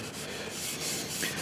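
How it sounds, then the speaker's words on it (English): A Scotch-Brite pad scrapes and rubs over mini lathe parts during a restoration, making a faint, steady abrasive scrubbing close by with no talk. "Do some more scraping."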